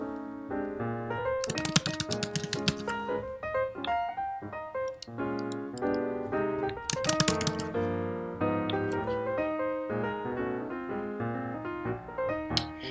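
Someone types on a computer keyboard in quick bursts of clicking keystrokes, with short pauses between runs, close and fairly clear with no talking.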